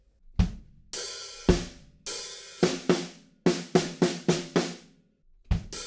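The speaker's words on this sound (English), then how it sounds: "we have 1 fill on the snare drum that sounds like this." Snare drum fill from the drum part of a song: a string of crisp, close hits with ringing decays, spaced unevenly at first and then quickening into a run of evenly spaced strokes.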